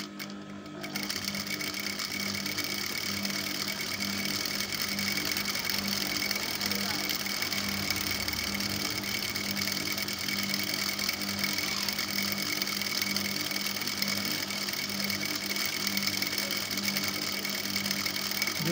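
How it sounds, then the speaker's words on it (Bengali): A sewing machine stitching a border strip onto skirt fabric, its motor whirring in a continuous steady drone with a rapid needle clatter that runs almost without pause, up close. "এই পাড়টা আমি এর সাথে জুড়ে নিব। সেলাই দিয়ে জুড়ে নেব।"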